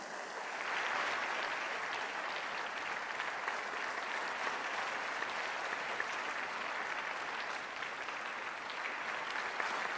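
Audience at an education summit in Varanasi, India, applauding as the Prime Minister is welcomed, a dense, sustained wash of clapping from a large crowd that holds steady for the full stretch without speech.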